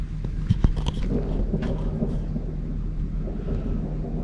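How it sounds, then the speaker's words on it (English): Distant thunder rumbles over open desert in Death Valley, a low continuous roll with a couple of sharper cracks early on, then a steady fading grumble with no voices. "I don't know if you can hear that thunder."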